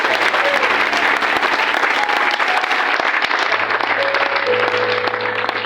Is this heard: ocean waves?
no